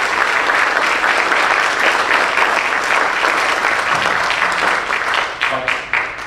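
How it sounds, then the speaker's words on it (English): An audience at a legislative district candidate forum in Wahoo applauds the candidates, a dense, sustained round of clapping that holds strong for several seconds, then thins into scattered individual claps near the end. "So could we give them a round of applause?"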